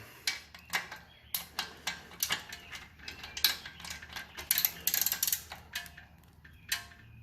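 A wrench loosens the rear hub bolt on a KBO Breeze ebike, giving a run of close, crisp ratcheting clicks in quick bursts, with metallic rattles mixed in.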